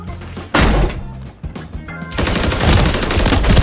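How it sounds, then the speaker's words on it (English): Rapid automatic gunfire bursts in a shooter video game, loud and close, with a short burst followed by a sustained dense stream of shots and a few thuds between. "Why are you shooting my body, Khan?"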